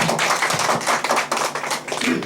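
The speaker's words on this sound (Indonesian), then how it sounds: "tepuk tangan untuk kita semuanya" An audience at an anti-corruption organisation's training event claps in a dense burst of applause, loud and continuous through the short stretch.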